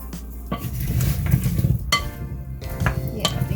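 Potato pieces being folded and stirred in extra virgin olive oil, a close series of soft scraping and clinking strokes of a utensil against a bowl or pan, irregular in rhythm, with no speech.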